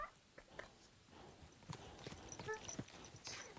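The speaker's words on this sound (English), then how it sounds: "Oh, it's the horse breathing." Horse in a medieval video game breathing and snorting softly with faint clopping hooves, moderately close, in short irregular bursts over a steady low ambient bed.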